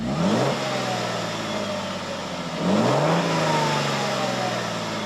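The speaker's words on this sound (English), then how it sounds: "the gas engine tends to fire up at the mere touch of the throttle" The gas engine of a 2025 Lexus LX 700h hybrid SUV starts up and revs twice, rising in pitch each time, then settles into a steady hum under faint narration.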